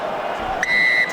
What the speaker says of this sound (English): Whistle blows, and the All Blacks at half-time leading by 21 points to 10 at Eden Park.